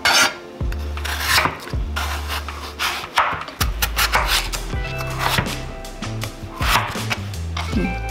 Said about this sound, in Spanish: Una vez que la tenemos pelada, la vamos a cortar. Yo la voy a cortar en cuadritos.